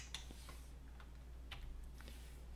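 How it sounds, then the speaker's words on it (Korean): A few separate keystrokes on a computer keyboard, typing 5 and then Enter during electrical quantity estimation work, sound as faint, quick clicks over a low steady hum. "이렇게 해서 5 엔터 친 것입니다."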